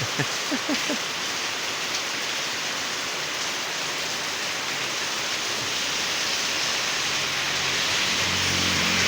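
Light morning rain in Chai Nat, Thailand, falls in a continuous hiss, close and even, with a few faint drips and a low rumble near the end.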